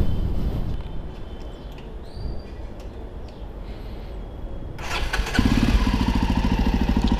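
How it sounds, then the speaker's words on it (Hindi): A Jawa Perak motorcycle with stock exhaust fires up partway through and settles into a steady, throbbing idle, close and loud after quieter outdoor ambience. "अब आपको सुनाता हूँ इसकी एग्जॉस्ट साउंड।"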